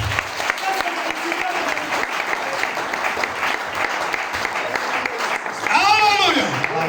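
A church congregation claps continuously in acclamation, a dense sustained applause, with voices calling out over it and a louder shout near the end.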